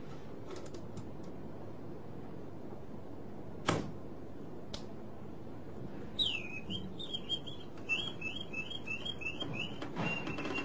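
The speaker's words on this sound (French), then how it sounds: "La poignée du pistolet contient un petit soufflet qui alimente en air le chant du colibri." Antique mechanical singing hummingbird automaton built into a pistol, its bellows in the grip pushing air through a whistle: a few sharp clicks, then a rapid, trilling chirped birdsong of repeated high warbles, fairly faint and close.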